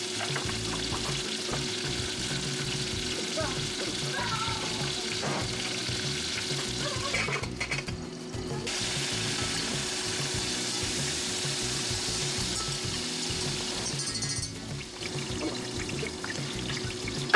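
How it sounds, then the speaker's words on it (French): Chopped onion and salmon pieces frying in hot oil in a pan, a steady close sizzle with soft crackling that runs throughout, briefly dipping once or twice as the food is stirred. "je vais venir ajouter l'oignon dans l'huile. Et en même temps, je rajoute le saumon"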